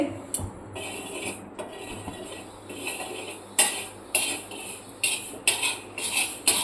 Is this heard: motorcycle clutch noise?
no